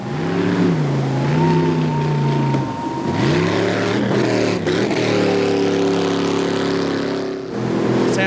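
B-class jet boat racing engine at the 2000 World Jet Boat Race, a loud sustained roar with shifting pitch as the boat runs, continuous and close throughout.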